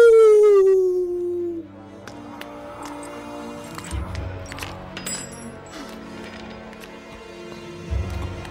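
A howl voiced for the terrible werewolf of the comic Lobster Johnson: The Burning Hand, a loud falling cry at the start, then a quieter stretch with soft clinks and thumps.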